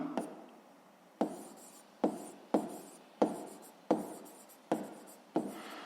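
A pen writes on paper in about eight short, close strokes at an even pace, each a crisp scratch that fades quickly, with no one talking.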